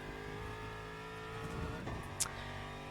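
An Aston Martin GT3 race car in the Le Mans Ultimate sim gives a steady, fairly faint engine drone, holding its tone with a slight rise and one brief sharp chirp near the end.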